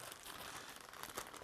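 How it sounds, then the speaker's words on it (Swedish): Scissors cut open a plastic package of cheap eyeglasses, producing faint, continuous crinkling and crackling of plastic close by, with a slightly sharper crunch near the end. "Vi kör med saxen här."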